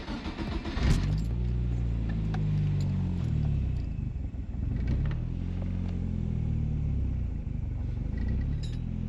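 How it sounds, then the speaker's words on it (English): A turbocharged Nissan Sentra B13 engine fires up and settles into a low, rumbling idle that wavers slightly in pitch, loud and close throughout with no speech over it. "I'm gonna go ahead now and actually start up the car"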